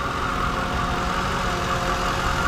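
A 2007 Lincoln Town Car Signature L engine idles steadily with a smooth, even hum and low rumble, close by and uninterrupted.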